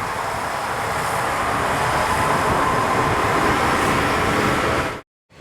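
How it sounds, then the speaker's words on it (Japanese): A JR Shikoku Dosan Line local train bound for Kotohira pulls into Awa-Ikeda station with a loud, steady rumble and hum close by, sustained until it cuts off abruptly. "折り返し琴平行きとなる列車が到着。"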